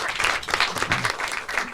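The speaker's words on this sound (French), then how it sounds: "On applaudit Albert Tawil, s'il vous plaît" Brief audience applause at a live event, a close, lively burst of many hands clapping with uneven swells, lasting under two seconds without talk.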